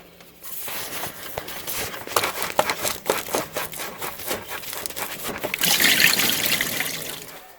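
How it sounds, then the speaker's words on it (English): Rubbery scraping and twisting at the lower radiator hose of a car with a coolant leak turns into a louder rushing trickle of coolant near the end, close up. "let's see if I can get a good bite on this radiator hose"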